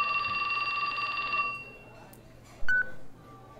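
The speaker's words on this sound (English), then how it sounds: "His phone rang." A phone ringing in the video game 428 Shibuya Scramble gives a bright electronic ring for about a second and a half, then stops; a short beep follows later over a quiet background.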